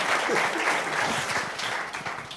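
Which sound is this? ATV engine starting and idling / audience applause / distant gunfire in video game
audience applause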